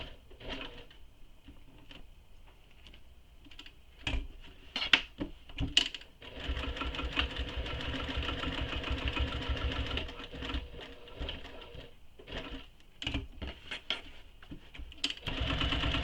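A sewing machine stitches tote bag straps in short bursts, then a long steady run of fast mechanical whirring, with clicks and pauses between stitching runs, close and fairly quiet.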